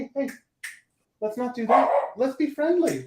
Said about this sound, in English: Oh, and now he's barking.